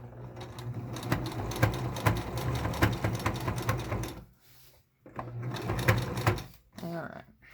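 A sewing machine runs a zigzag stitch through thick cotton fabric in two bursts of rapid, rattling clatter, separated by a short pause. A brief voice comes in near the end.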